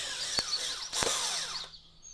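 A power tool backs screws out of a garden windmill with solar LED lighting, giving two short close whirring bursts that fade toward the end.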